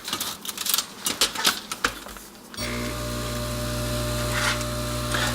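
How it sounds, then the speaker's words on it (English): A hot air tool switches on partway through, its steady fan-driven hiss and hum filling the space after a run of irregular handling clicks and taps, used to shrink heat shrink tubing while installing a 3.5mm audio jack on a NuTone SM428 Master Station. "You use your hot air tool and you simply shrink the tubing."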